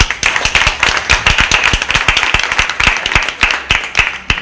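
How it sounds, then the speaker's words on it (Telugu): A crowd claps steadily and loudly, many hands producing a dense, sharp patter that keeps going throughout. "ఈరోజు మీకోసం మీరు గట్టిగా చప్పట్లు కొట్టుకోండి"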